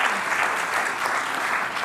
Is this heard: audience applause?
yes